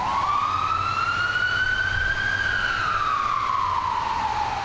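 A wailing emergency siren rises and falls in a steady sweep, loud and close, over a low rumble of traffic.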